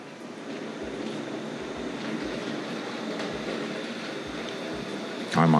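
A Tri-ang R.153 model saddle tank locomotive with goods wagons runs along toy track with a steady low rumble and faint rhythmic clicks at the rail joints, heard from a short distance and building toward the end.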